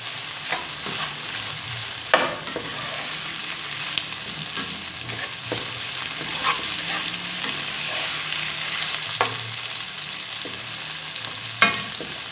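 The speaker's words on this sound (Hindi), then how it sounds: "मीडियम हाई फ्लेम पे वेजिटेबल्स को सौते कर लें 1 से 2 मिनट के लिए, ताकि अच्छे से फ्राई हो जाए" Vegetables sautéing in a pan over a medium-high flame for a chicken spaghetti dish, a continuous close sizzle with scattered crackles and occasional stirring clatters, no talking.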